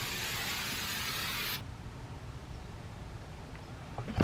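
A can of Lysol disinfectant spray hisses in one steady, loud burst for about a second and a half, then cuts off to quiet room noise.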